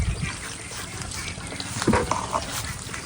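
Ducks let out of their pen on a lot shared with pigs, chickens, turkeys and geese, giving a few short quacks and calls over shuffling movement and farmyard noise.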